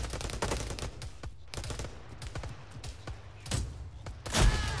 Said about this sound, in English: They're grenading the fucking village.